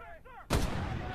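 A sniper rifle fires a single loud, sharp crack in the VR shooter Medal of Honor: Above & Beyond, followed by a decaying tail; a short gliding tonal sound comes just before the shot.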